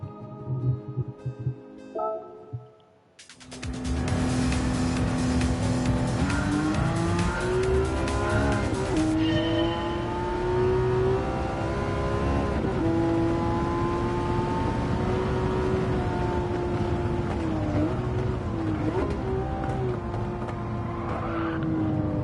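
A race car in Gran Turismo 7 accelerating hard from a standing start, engine note climbing and shifting through gears, loud and steady under faint tire noise.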